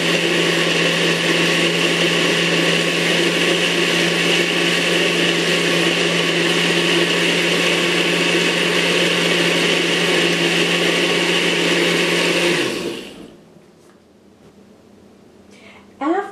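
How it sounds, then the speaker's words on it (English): A kitchen blender runs steadily at high speed, whirring loud and close as it mixes coquito ingredients (coconut eggnog), then cuts off near the end, leaving quiet room sound. "30 seconds of blending"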